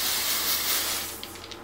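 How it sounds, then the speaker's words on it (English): A translucent makeup setting spray misted onto a face in a steady, close hiss lasting over a second, followed by a few quick short puffs. "I just like to spray it like that"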